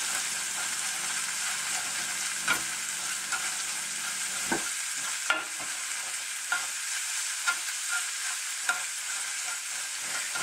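A spinach omelet fries in a pan with a steady, close sizzle and scattered crackles and pops for about ten seconds, with no one talking.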